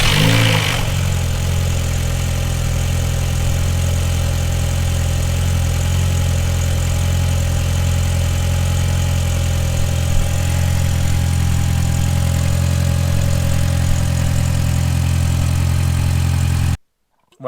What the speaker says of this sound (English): Car's running really nice and smooth.